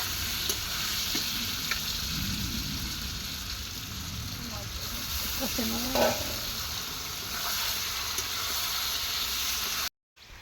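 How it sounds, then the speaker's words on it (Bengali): Meat fries with spices in a pan, giving a steady, fairly loud sizzle throughout, with stirring scrapes and faint talk in the background before the sound cuts out briefly near the end. "মাংস রান্নার জন্য মাংসটা প্রথমে মা মশলা টশলা দিয়ে ভেজে নিচ্ছে"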